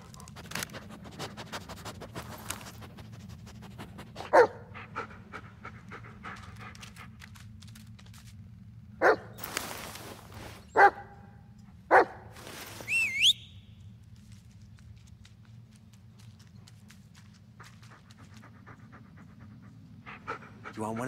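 A dog panting steadily in The Blair Witch Project video game, a low continuous breathy rhythm running throughout, broken by a few sharp footstep-like knocks and a brief whistle-like tone, with no talk.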